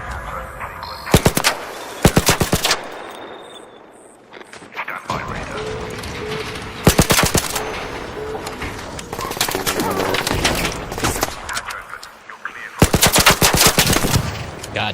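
Rapid automatic gunfire from a gun in a video game comes in several loud bursts separated by quieter stretches of game noise and mechanical clicks.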